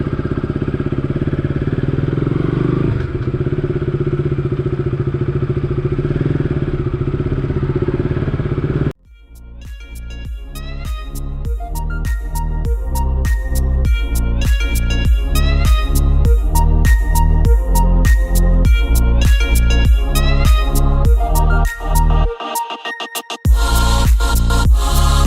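A KTM RC 200 motorcycle starts after a stretch of steady wind-like rumble, then its single-cylinder engine idles and revs close by, pulsing rhythmically and climbing in pitch, with a brief cut before the engine resumes loudly.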